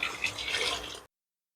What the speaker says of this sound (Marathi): आता मी याच्यामध्ये पाणी घालून घेते